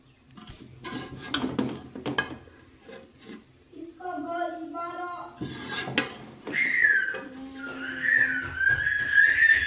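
Serving spoon scraping and clinking against a pot while dishing out freshly steamed degi chana pulao, with a few sharp metallic taps and scrapes, plus a whistling tone and someone talking.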